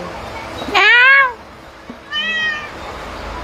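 Two separate meows from a cat, each a rising-then-falling cry, close and fairly loud, with a quiet pause between them.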